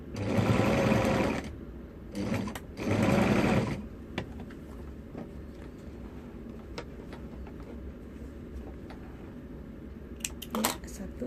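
Sewing machine stitching the seam of a zipper accordion, two loud close bursts of rapid stitching about a second long each, followed by quieter handling noises and faint rustles.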